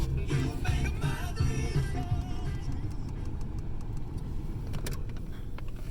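A manual Ford Ranger's engine turns over and settles into a steady, close idle with a constant low rumble.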